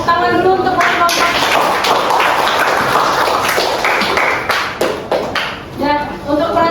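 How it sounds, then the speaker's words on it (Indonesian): Classroom audience claps for a student presentation group, a dense burst of applause filling the room, with talking over it toward the end. "Tepuk tangan dulu untuk kelompok."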